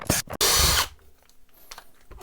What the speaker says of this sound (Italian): Possiamo svitarle con questo inserto nel mandrino principale